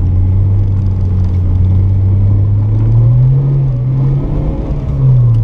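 A 1991 Isuzu Gemini Irmscher R, Lotus-tuned, runs its 1.6-litre 16-valve twin-cam turbo engine with a loud, steady low drone whose pitch rises slightly then settles, continuous throughout with no talk.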